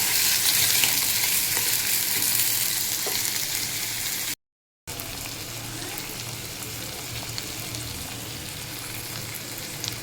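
Whole spices and a bay leaf fry in hot oil for a fish curry, giving a steady close sizzle and crackle that carries on with one brief break partway through.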